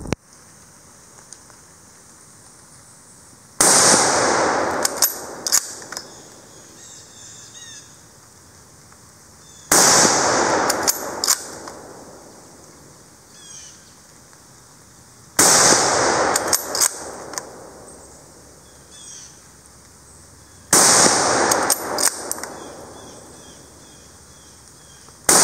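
Four loud rifle shots from a Yugoslavian M24/47 Mauser fired at a keg outdoors, spaced about five to six seconds apart, each a sharp crack with a short ringing tail over faint insect buzz.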